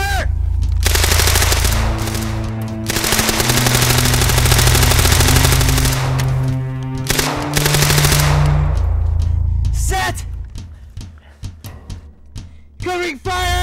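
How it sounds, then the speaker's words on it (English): Heavy, sustained automatic gunfire in a World War II style video game, loud and continuous, then breaking into scattered bursts and single shots, mixed with game effects. "opening fire!"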